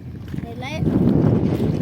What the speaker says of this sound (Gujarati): ટ્રેક્ટર આવ્યું ને જો ટ્રેક્ટર કેટલાય નીકળે અહીંયા